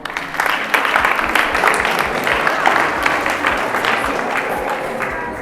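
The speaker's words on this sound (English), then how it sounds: "Can we clap hands for her?" An audience at an inter-college entrepreneurship event claps for a prize winner, a lively burst of many hands with sharp individual claps that slowly thin out, mixed with faint crowd murmur.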